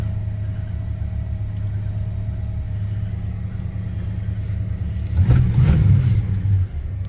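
A 1968 Oldsmobile Delmont 88 V8 idles steadily just after a cold start, a deep low rumble close by that swells louder near the end as the engine revs briefly, with no one talking.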